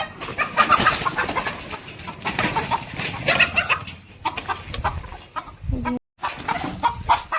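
Hens cluck in a farm shed where one hen sits over her chicks, with steady close clucking and scattered calls from other birds continuing throughout, alone and without talk.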